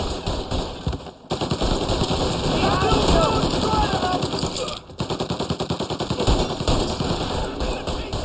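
Sustained automatic gunfire from a shootout in the video game Mafia, dense rapid bursts with brief pauses, loud and close, with voices calling out over the shooting.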